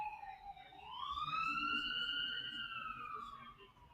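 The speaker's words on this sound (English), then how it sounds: "We got sirens." A wailing ambulance siren sweeps up and holds a loud, rising tone, sounding fairly close, with a faint low rumble underneath.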